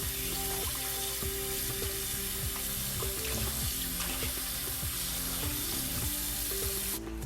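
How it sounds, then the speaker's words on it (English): Pork ribs are rinsed in cold tap water, a running faucet splashing steadily with soft sloshing and handling noises close by, alone without talk. "Just rinse it a few times."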